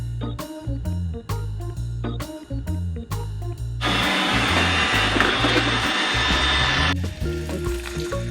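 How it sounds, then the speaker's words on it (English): A household vacuum cleaner runs over the floor in a steady, loud broadband whoosh lasting about three seconds in the middle, with rhythmic tonal music or thumping sounds before and after it. "Vacuum some floor."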